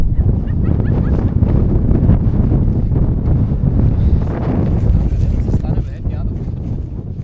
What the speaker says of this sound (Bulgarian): То навсякъде ще духа, защото той вятър идва от там.